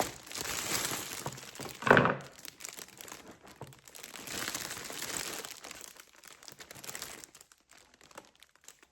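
Plastic gift basket wrap crinkles and crackles as it is gathered and pulled together around a Dollar Tree container, with a sharp louder burst near the start and continuous rustling handling throughout, close by.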